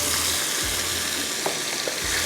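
Ground tomatoes and spices frying in a hot pan, a loud, continuous close sizzle with faint scraping stirs throughout and no talking.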